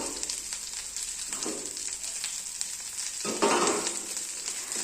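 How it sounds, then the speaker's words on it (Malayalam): Drumstick leaves frying in a pan, a steady close sizzle with stirring scrapes and a louder burst of frying near the end, no voices. "മുരിങ്ങയില ഒന്ന് ഇട്ട് കൊടുക്കാം മുരിങ്ങയില ഒന്ന് വാട്ടിയെടുത്താൽ മതി"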